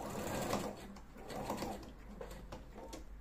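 A sewing machine stitching a zip in short, quiet bursts, its needle chattering rhythmically at close range with brief pauses between runs.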